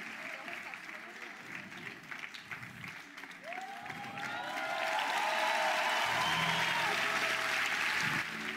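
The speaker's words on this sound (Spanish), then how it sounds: "si ese aplauso es para mí, está muy bueno, pero si es para Cristo, que le quemen las palmas de sus manos" Applause from a church congregation swells from scattered clapping under a man's speech into a louder, fuller burst with cheers toward the end.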